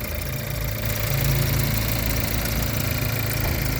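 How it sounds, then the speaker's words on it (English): Engine of a 2017 VW Jetta idling, a steady low rumble with faint mechanical ticking, heard close and alone throughout. "Okay, with the motor running."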